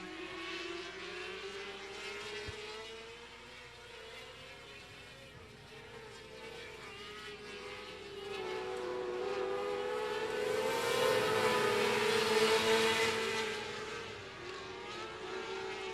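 Micro sprint cars and non-wing modifieds racing around the I-37 Speedway oval in a heat race, their engines a continuous distant droning roar that swells louder toward the middle of the run, with faint talk mixed in.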